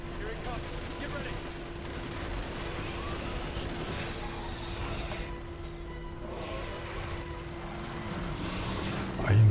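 Dense, continuous gunfire from Resident Evil 6 game action with unlimited ammo, sustained bursts running throughout at a steady loud level, mixed with game effects and a voice talking over it.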